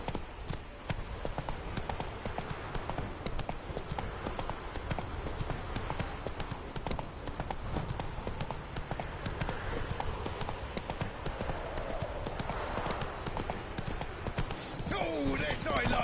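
Galloping horse in The Witcher 3 on PS4, hooves pounding in a fast, unbroken clip-clop that stays close and loud throughout, with a voice speaking briefly over it.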